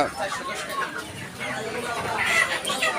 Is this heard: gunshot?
no